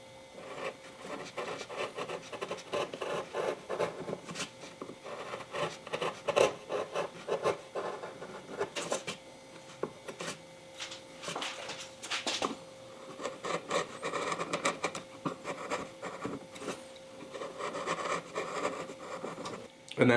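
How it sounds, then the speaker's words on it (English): A small shallow 5mm gouge carving a wooden landscape scene, producing a continuous run of faint, close scraping and rasping strokes in an irregular rhythm, with no voices. "I'm using a small shallow gouge, 5mm, and I'm just going parallel with the lines."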